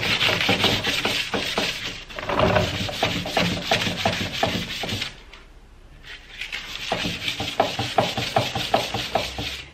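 Rubbing to degloss the finish on a wooden nightstand gives close, rhythmic scrubbing strokes with a brief pause midway before the scrubbing resumes.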